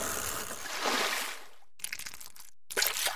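Bubbling water sound effect from the video game Mitoza: a steady, close gurgling wash that cuts out abruptly, followed by two short bursts of bubbles separated by silence.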